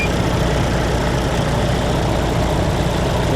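A small plane's engine idles around 1,000 RPM to warm the oil, a steady, low, rumbling drone that stays loud and unchanging throughout with no voices.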